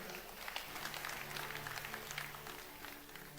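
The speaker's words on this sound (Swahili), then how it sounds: "Tuwapigie makofi." Audience applause at a church gathering and award event, a dense, continuous wash of many hands clapping that holds steady throughout.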